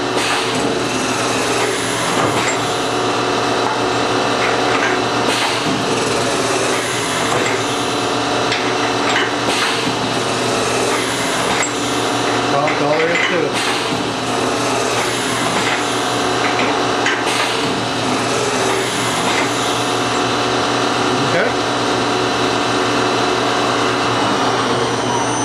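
MSI ChamferMate C3A chamfering machine taking a test cut on a part, a steady loud mechanical grind with tapping and scraping textures running throughout, no talking.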